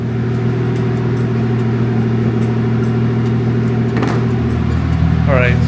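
A Toyota MK3 Supra engine idles steadily with a low, even hum and rumble, close and loud throughout, with a brief higher whine near the end.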